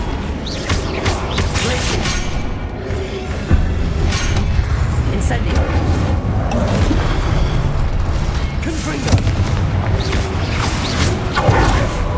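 Spells like Flipendo being cast during combat in the PS5 game Hogwarts Legacy, with dense overlapping booms, bursts and mechanical clatter running continuously under game music and effects.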